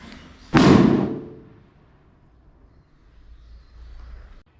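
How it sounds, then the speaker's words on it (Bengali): A single sharp blast from a Burima chocolate bomb firecracker, one loud close bang that quickly fades, followed by faint background rumble. "বন্ধুরা, এই ফটকাটার নাম হচ্ছে বুড়িমা চকলেট বম। এবার এটা ব্লাস্ট করে দেখি কেমন হয়।"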